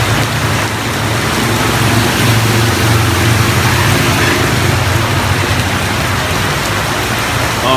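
Heavy rain pours on a Saigon street, a loud dense unbroken hiss of drops on surfaces with a low rumble underneath, steady throughout and with no voices.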